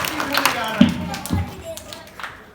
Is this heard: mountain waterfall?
no